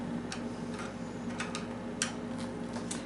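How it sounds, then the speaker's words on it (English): A screwdriver backs two screws out of an electric guitar's output jack plate, giving soft, irregular ticking clicks close by over a steady low hum. "You just have to take out these two screws right here."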